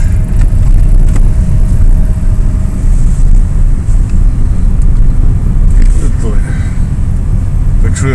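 A car creeps slowly along an icy winter road, its engine and tyres giving a steady, close, low rumble throughout with little change in pace, while voices talk inside the cabin.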